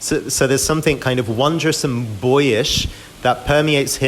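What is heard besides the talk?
No distinct noise like a dog, phone or traffic.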